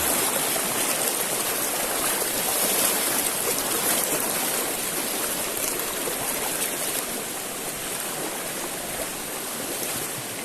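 Swift, muddy jungle river, the Krung Beriung in Aceh, rushing in a steady broadband wash of flowing water, loud and close, with no voices over it.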